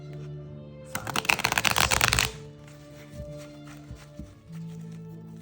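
Tarot cards riffle-shuffled in a dense, crackling burst lasting about a second, close and fairly loud, followed by a few soft taps and card handling over a low steady hum.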